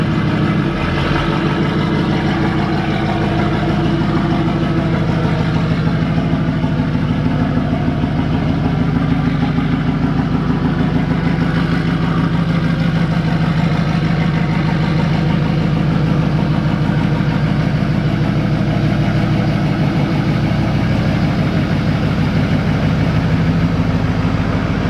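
An L5P Duramax diesel pickup engine with an S369SXE turbo idles steadily and loudly for the whole stretch, a deep, even rumble with no talking.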